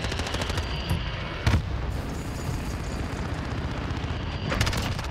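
Rapid automatic fire from an MP7 submachine gun in Modern Warfare, a dense continuous rattle of gunfire with a couple of louder bursts, loud and close throughout with no talk.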